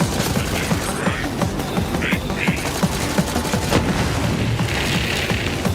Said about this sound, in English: Let's try the ion cannon out.